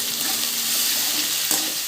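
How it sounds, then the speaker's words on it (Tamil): Green chillies and onions frying in a pan for upma, a loud, dense, continuous sizzle with a faint scrape of stirring partway through. "அப்புறம் இது எல்லாத்தையும் சேர்த்து நல்லா ஃப்ரை பண்ணணும்"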